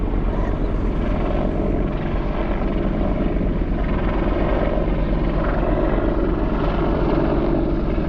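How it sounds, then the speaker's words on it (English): An Apache helicopter passes overhead with a loud, continuous rotor and engine drone that holds steady throughout, close and with no talk over it. "I don't really know my helicopters or anything, but I want to say an Apache"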